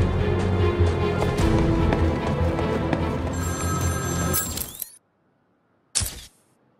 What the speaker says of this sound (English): Now hang up that phone and start running. Ring, ring, ring, ring.